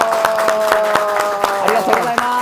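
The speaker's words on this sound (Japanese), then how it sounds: "もうちょっと拍手して" At a public recording of a talk radio show, an audience claps in a steady, even rhythm, sharp close hand claps repeating under a sustained tonal background with some voices.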